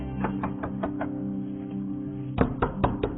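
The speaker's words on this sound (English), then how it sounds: "Walking, knocking, and more knocking." Knuckles knock on doors in a residential building during a lockdown: two bursts of three or four sharp raps separated by a pause, over a steady low hum.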